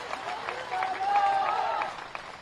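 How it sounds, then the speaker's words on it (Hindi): Crowd at an outdoor political election rally applauds, clapping rising and swelling through the middle with crowd noise and a voice over it, then easing off. "तो जीत की जरा जोरदार तालियां बजाकर उनको आशीर्वाद दीजिए।"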